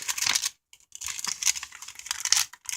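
Tape is pulled, torn and pressed down while a piece of recycled envelope is fixed into a glue book, giving bursts of crinkly tearing and rustling with short gaps between them.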